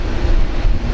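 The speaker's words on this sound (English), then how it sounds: "Runway 19 left, clear for takeoff." A Qantas airliner's engines roar loud and close during takeoff at Brisbane Airport, a dense, steady rumble with no other sound over it.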